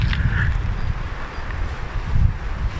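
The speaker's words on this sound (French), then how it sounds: "le vent souffle vraiment fort" Strong wind blowing across an open golf course at Arcachon, a low rumbling rush buffeting the microphone for the whole stretch, steady and fairly loud with no clear talk.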